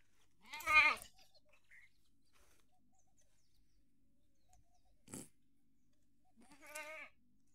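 Village goats on a farm give three separate bleats, one early and two later, with quiet gaps between them and no voices.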